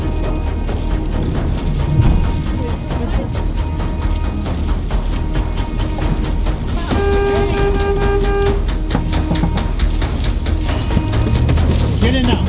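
A tour van's horn sounds during an escape from the El Reno tornado, a steady tone holding for a couple of seconds amid loud rumbling wind, engine noise and shouted voices.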